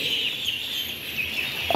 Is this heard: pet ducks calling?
yes